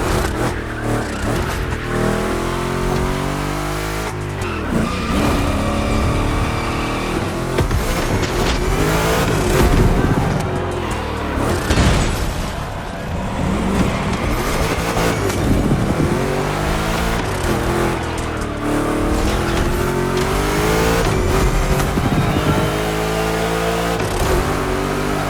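A race car in the open-world driving game The Crew Motorfest, during a gymkhana event, roars loudly and continuously for the full stretch, its revs climbing and falling repeatedly with tire squeal and skids mixed in.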